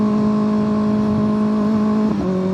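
A 2025 Kawasaki ZX-6R motorcycle engine holds a loud, steady droning note, then its pitch briefly dips and settles lower as the rider rev-matches a downshift, heard up close and alone.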